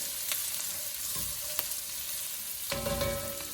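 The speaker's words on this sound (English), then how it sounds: "Stir that around. Got a little brown butter going here." Fried rice sizzles in brown butter with a dense, steady crackle, while a utensil stirs and scrapes the pan in a few close, distinct strokes.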